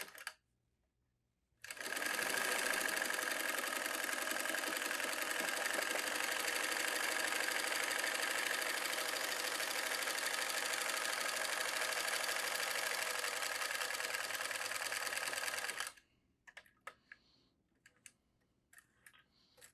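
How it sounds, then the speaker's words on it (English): A vintage Kenmore sewing machine stitches a buttonhole in one continuous, steady whirring run of about fourteen seconds, close and even, followed by a few faint clicks and handling noises. "you would line this up with wherever you want to start your buttonhole. And let's see how it goes."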